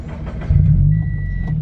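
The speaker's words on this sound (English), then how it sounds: "so Nick just rolled up in his FRS" A Toyota FRS sports car pulls up close by, its engine a steady, loud low rumble that swells after a brief moment, with a thin whine riding over it for a second.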